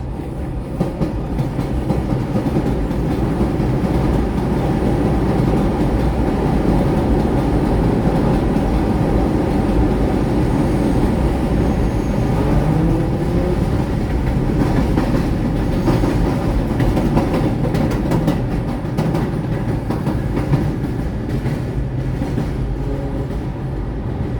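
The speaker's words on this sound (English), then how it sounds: "Look at that, 2 trains went by, one going up, one going down." Steady rumble and clatter of two trains passing in opposite directions along Jerome Avenue in the Bronx, continuous and fairly loud throughout, with no voices.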